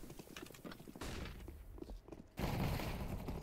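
Gunfire from the online shooter CS:GO, a faint flurry of rapid in-game shots and mechanical clatter blending into a dense, noisy burst toward the end.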